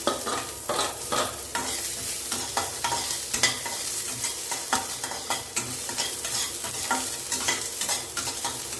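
Cumin, onion and dried red chili fry in a pan for pear rice, a dense close sizzle broken by repeated scraping stir strokes.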